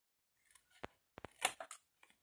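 Scissors snip through material for a small desk organizer, a few close, crisp cuts and rustles in a quiet room.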